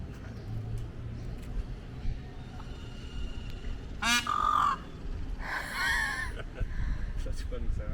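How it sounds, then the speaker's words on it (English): A bird squawks twice in short bursts, a harsh warbling call and then a longer one a moment later, over outdoor background noise at a camp in the Oaxacan mountains of Mexico. "What an interesting squawk."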